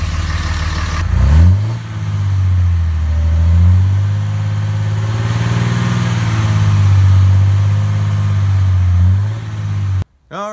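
A Dodge Cummins 5.9 diesel truck with an Edge stainless exhaust rumbles loudly up close, revving up early, holding a deep steady drone, then dropping off before a brief cut.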